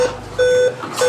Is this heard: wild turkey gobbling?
no